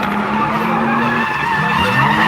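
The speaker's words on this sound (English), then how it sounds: "Jason out in front. 700 horsepower in that Sylvia." A 700-horsepower Nissan Silvia drift car skids on track, tires squealing continuously under a loud, droning engine at close range.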